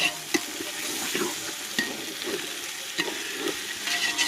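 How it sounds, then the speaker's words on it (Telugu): Mint pulao frying in a pan, with a spoon stirring and scraping through the rice in repeated strokes over a continuous close sizzle, without speech. "మొత్తం అయితే బాగా ఫ్రై అయిపోయింది"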